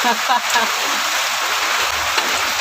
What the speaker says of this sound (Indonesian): Bising nggak ini hujan?